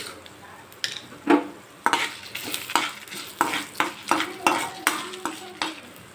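Dried red chillies fry in hot oil in a pan while a spoon stirs them, giving a soft sizzle punctuated by a regular series of scraping, clinking strokes against the pan, close up.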